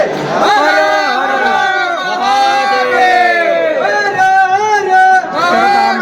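A dense crowd of devotees packs the Mahakal temple in Ujjain, producing loud, continuous massed voices with a chant-like, sustained quality and no single speaker standing out.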